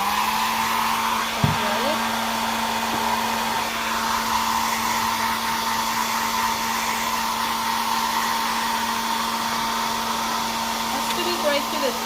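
A hair dryer blows steadily on wet acrylic paint on a one-stroke bluebonnet flower painting, a loud, unbroken whirring hum that runs the whole time with only a brief knock near the start.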